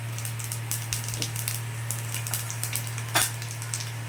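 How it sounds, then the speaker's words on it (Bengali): Panch phoron spices hit hot mustard oil in a pan for a tamarind pickle. Close, fine crackling and scattered sharp pops sit over a low steady hum, with one louder spitting pop near the end. "তেলটা গরম হয়ে গেছে এখন আমি তেলের মধ্যে পাঁচফোড়ন দিয়ে দিলাম"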